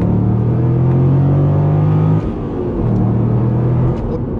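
A Corvette C6 engine roars loudly under acceleration, with a deep steady drone that cuts off briefly at a gear change, then resumes with the same strong pitch.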